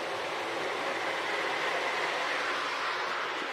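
An OO gauge model steam train runs with a steady, hissing rumble, constant and fairly close, with no voices.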